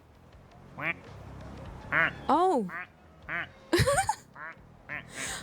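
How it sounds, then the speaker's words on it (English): Plastic toy ducks in Placid Plastic Duck Simulator give a string of separate squeaky quacks, about eight calls with uneven gaps, close and clear, with a brief spoken exclamation among them. "I didn't think about making them quack."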